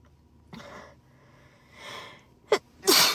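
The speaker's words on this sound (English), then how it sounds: "oh, goodness, I usually sneeze like 3 times." A woman sneezes, with a few soft inhaling breaths and sniffs building up first, then a sharp close sneeze and a louder final burst at the end.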